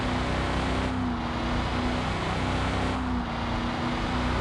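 A steady car engine hum with a low tonal drone drifts through a driving video game featuring a 2026 Audi Sportback petrol, holding a constant level with slight dips and swells and no speech.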